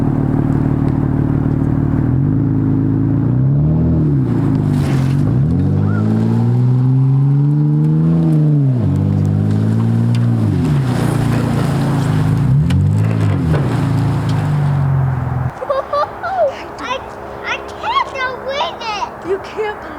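An old car's engine runs and revs with rising and falling pitch as it pushes a 1960 Ford F100 pickup toward a shop. The steady drone is loud and close, then gives way to clattering noise near the end.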